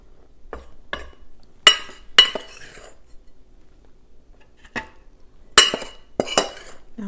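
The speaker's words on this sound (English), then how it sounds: "I'm going to use this scooper to get my flour in here so I don't make a major mess" A scoop repeatedly clinks and knocks against a bowl as flour is scooped in for pie crust. The sharp, close taps come in irregular clusters with quiet gaps between them.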